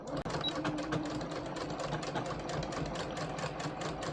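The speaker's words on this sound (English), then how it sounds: "I'm just going to stitch that all the way to the end, like that." A sewing machine stitches a waistband in a rapid, regular mechanical chatter that runs steadily for several seconds, close up, after a brief click at the start.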